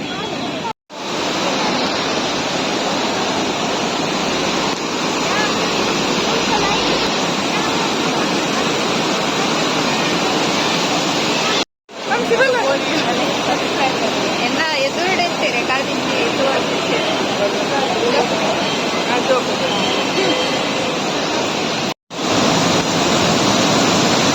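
Steady rush of flowing water, loud and close, a continuous broadband roar with brief breaks, voices faintly audible beneath it.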